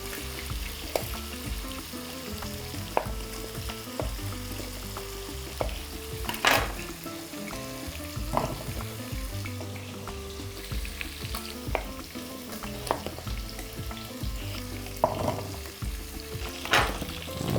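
Meat pieces sizzle and fry in a pan for shepherd's pie, a continuous close crackle broken by occasional sharper pops and stirring scrapes, with no talk.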